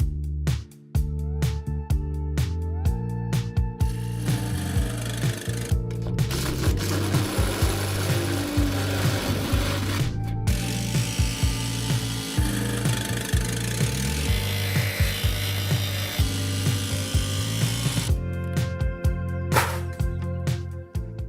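Power tool cutting a roof vent hole through the metal roof of a VW Crafter van, a loud buzzing cut broken by short pauses and sharp clicks, close up with no speech.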